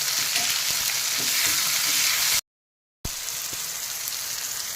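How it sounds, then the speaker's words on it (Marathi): Onion and then tomato sautéing in hot oil with mustard seeds, a steady close sizzle and crackle with a few stirring taps, broken by a brief silent cut before the frying resumes. "तेलात कांदा टाकून परतून घ्या. नंतर टोमॅटो घाला"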